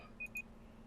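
Two quick, crisp electronic beeps sound from a timer, evenly spaced and fairly close, against a quiet room background with no talk.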